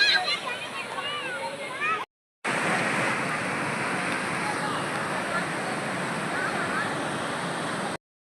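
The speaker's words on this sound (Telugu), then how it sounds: "ఇప్పుడు సికపరు వాటర్ ఫాల్స్ అనమాట" Sikhaparuvu waterfall roars with a steady broadband rush, briefly interrupted by a cut; a voice speaks faintly at the start.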